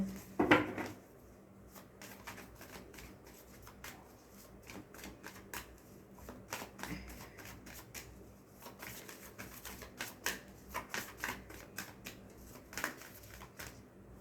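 Tarot cards being shuffled and drawn by hand, heard as soft scattered riffles, slides and taps, quiet and close, with one louder flurry at the start and irregular light flicks throughout.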